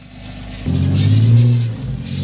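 A bogged 4WD's engine revs up hard in first gear while its wheels spin in mud, a loud sustained roar swelling after a brief lower idle, with no talking.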